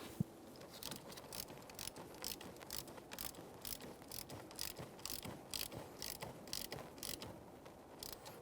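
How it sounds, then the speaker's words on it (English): A hand ratchet tightening the 10mm mounting nut on a battery terminal of a 2008-2017 Mitsubishi Lancer, with a steady rapid run of faint clicks that keeps going evenly throughout, close up, no voices. "and tighten the 10mm mounting nut."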